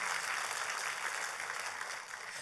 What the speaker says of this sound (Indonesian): Oh yes, kalau mau tepuk tangan, tepuk tangan.